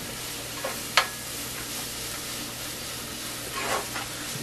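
Egg spread thin in a hot pan for cauliflower fried rice, giving a steady soft sizzle with a faint clink near one second and a brief louder flare of frying toward the end.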